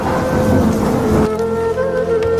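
Rain and thunder in a Hindi cartoon, a loud, full roar of downpour with a rumbling swell that drops off abruptly midway, leaving a thinner rain texture with a steady tonal hum.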